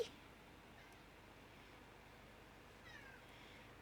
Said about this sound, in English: What are you meowing?